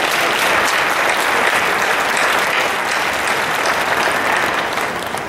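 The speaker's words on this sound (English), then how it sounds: "Let's give our delegates one more round of applause." Audience at a Nevada FFA convention session applauding delegates; loud, steady clapping from a large crowd throughout, tapering slightly at the end.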